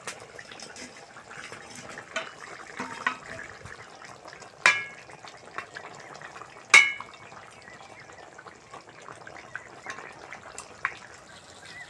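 Spicy fish curry sauce bubbles quietly in a pan as fried fish pieces go in, with a low simmer and a couple of brief splashes and clatters.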